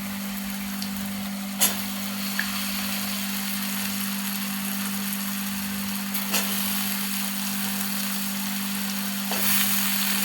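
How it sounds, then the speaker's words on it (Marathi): Potato sautéing in a pan for spiced masale bhat rice gives a steady, even sizzling hiss over a low electrical hum, broken by a few sharp stirring clicks. "एक बटाटा घालते त्याच्यामध्ये, परतून घेते चांगलं."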